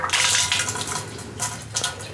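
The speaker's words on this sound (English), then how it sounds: "I'm gonna start letting it drain in there." Liquid bourbon mash drains steadily, giving a continuous close splashing, rushing flow with slight surges and no pauses.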